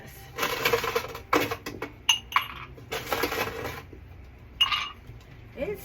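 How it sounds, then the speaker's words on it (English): A piece of ice dropped into a small glass while a cantaloupe cosmopolitan is prepared gives a few sharp, bright clinks and rattles up close, with short pauses and light handling noise between them. "Let me get a piece of ice for this."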